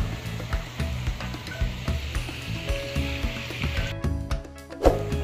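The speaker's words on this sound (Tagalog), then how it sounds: "habang niluluto natin yan mga katsan, yung manok natin" Chicken inasal sizzling steadily as it cooks, a continuous close frying crackle with scattered utensil clinks and small knocks throughout.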